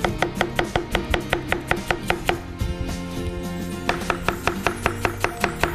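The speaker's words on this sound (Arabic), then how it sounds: "البصل. طبعا أنا بفرم على نفس البورد." A knife chops onion on a cutting board in a kitchen in rapid, even strikes. Loud, crisp knocks come in two runs, with a brief pause in the middle.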